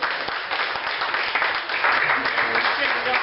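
A comedy club crowd claps loudly for a comedian, a dense round of applause lasting a few seconds with voices mixed in.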